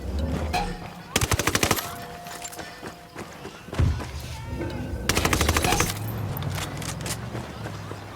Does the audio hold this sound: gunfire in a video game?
yes